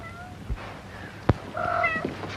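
Cats meowing indoors, a few short mews over a quiet background, with one sharp thump near the middle.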